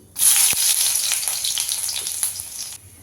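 Chopped garlic dropped into very hot mustard oil, bursting into a loud, steady sizzle that holds for a few seconds, close and alone.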